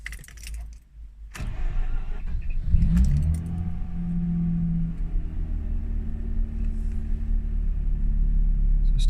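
A Mazda RX8 rotary engine starts from cold: a brief jangle of keys, then the starter cranks and the engine catches with a loud, rough surge and settles into a steady, throbbing idle close by.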